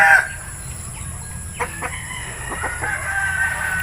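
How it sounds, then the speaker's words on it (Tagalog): A fighting rooster crows nearby, followed by scattered clucks and soft farmyard clatter against a steady background hum. "May extra pang manok na pang sabong."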